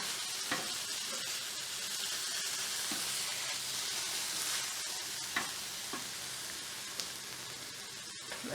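Taco meat browning in a pan with a steady, fairly quiet sizzle and hiss, broken by occasional clicks of stirring.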